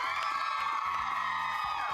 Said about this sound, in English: Oh, another round of applause for Lamar, I think.